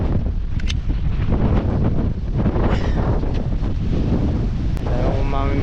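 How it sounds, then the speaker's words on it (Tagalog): Strong wind buffets the microphone in a continuous loud roar, with water sloshing faintly underneath. "Medyo malakas na rin po ang hangin."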